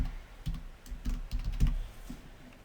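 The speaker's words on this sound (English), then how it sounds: "Type your name." A steady run of close, crisp keystrokes on a computer keyboard as a name is typed, alone without talk.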